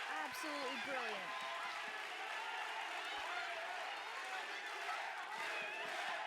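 A pro wrestling event crowd cheers and applauds in a dense, continuous roar of voices and clapping that fills the whole stretch at an even level, with scattered shouts rising out of the noise.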